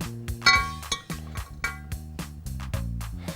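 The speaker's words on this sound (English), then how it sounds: "you take your pebbles and you put them in the vase" Pebbles dropped one after another into a glass vase make a few sharp clinks and taps over steady background music.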